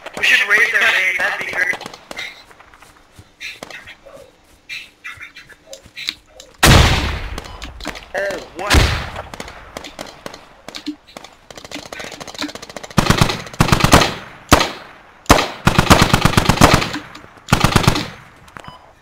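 Automatic and single gunfire from the military shooter game Squad, bursts of varying loudness, some near and sharp, others more distant, with a player's voice, gasps and laughter mixed in over the opening seconds.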